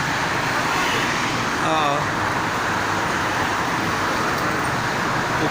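Busy traffic streams along the Jakarta–Cikampek toll road, a dense, continuous roar of passing cars and heavier vehicles with a brief swell partway through. Faint voices can be heard in the background.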